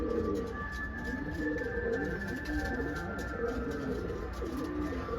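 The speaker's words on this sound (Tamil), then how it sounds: "இந்த புறா இந்த ஒரு ஃபீமேல் பாருங்கள் எப்படி இருக்குன்னு" A female pigeon coos inside a loft, a soft rolling series of repeated coos in a steady rhythm over a constant low background hum.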